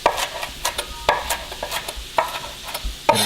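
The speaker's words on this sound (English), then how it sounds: "now you can go through and just rock your knife back and forth" A knife rocked back and forth on a cutting board taps out quick, uneven chopping clicks, close and crisp, with no talking.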